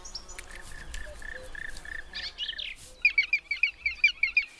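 Black woodpecker nestlings call from a hollowed-out nest hole, a rapid series of sharp, rhythmic chirping calls that grows louder toward the end over soft background bird sounds.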